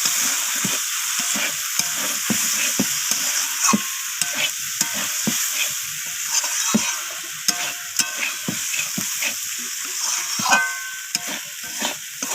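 Fried potatoes stir-fried with spices and cashews in a pan, a loud continuous sizzle with repeated scraping and stirring strokes throughout, close up and without voices.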